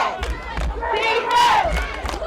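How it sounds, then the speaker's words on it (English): Home crowd at a Baltimore football game between the Railroads and the Rams, roaring and yelling with swelling shouts, dense and loud, punctuated by brief sharp bangs. "You gotta love the crowd."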